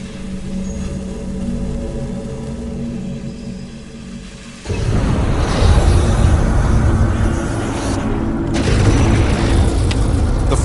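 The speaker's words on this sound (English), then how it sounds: "The flamethrower fires burning gasoline over 60 feet and instantly incinerates the target Richard has set up." Gasoline flamethrower firing burning fuel across 60 feet at a hay bale, a low mechanical rumble giving way to a sudden loud roaring whoosh that sustains with rough, turbulent intensity, briefly dipping before surging again.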